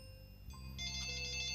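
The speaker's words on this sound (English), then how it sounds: "Phone! One of the many calls we're probably gonna get." A phone rings in The Blackwell Legacy, an electronic trilling tone that starts softly and swells into a steady, bright ring over a quiet background.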